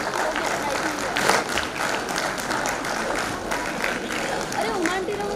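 Loud applause from an audience at an NTPC Lara employees' spouses competition as the first-place winner is announced, dense clapping sustained throughout with crowd chatter and a voice mixed in.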